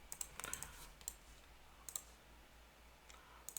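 A computer mouse clicks a few times, faint and sharp, as scattered single and double clicks over a quiet background.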